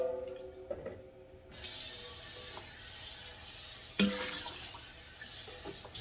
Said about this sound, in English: I'm going to run a little bit more clear water through there